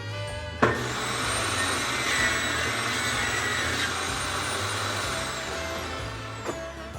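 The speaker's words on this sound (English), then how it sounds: "I'm going to set my table saw to 1 inch and then rip the board that I just cut" Table saw ripping a board to one-inch width in a woodworking shop, a steady, loud whining roar of the blade cutting through wood for about six seconds, starting and ending with sharp knocks.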